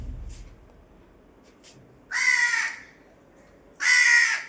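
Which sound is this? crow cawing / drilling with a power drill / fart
crow cawing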